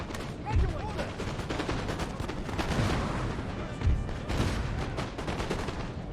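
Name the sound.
cannon artillery fire in video game Napoleon: Total War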